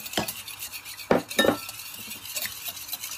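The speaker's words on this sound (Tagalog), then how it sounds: "I-mix ko lang itong itlog." Eggs are mixed in a bowl for puto pao, heard as a few sharp utensil clinks and scraping strokes against the bowl, close up and sparse.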